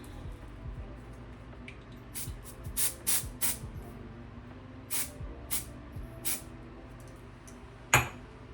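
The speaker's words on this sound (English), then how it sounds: "Let me spritz this side. I'll do the black spray" Several short hissing spritzes of black hair spray onto a wig, some in quick succession, with a louder final burst near the end; close and fairly quiet, no talking.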